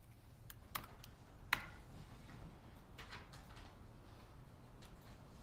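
Faint computer keyboard typing in a quiet room, irregular soft key clicks with a few sharper, louder taps near the start and no voices.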